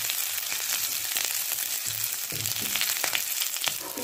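Onions for paneer chilli ghee roast fry in a pan, giving a close, dense sizzle with light crackling that holds steady for a few seconds.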